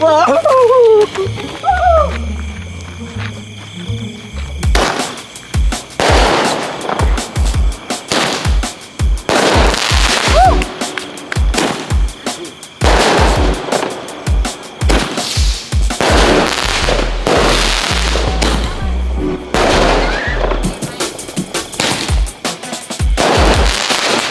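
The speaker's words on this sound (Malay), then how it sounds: "Kita try bunga api Roman ni" Rapid bursts of Roman candle fireworks crackle and pop in quick succession, loud and near, with brief pauses between volleys and voices faintly underneath.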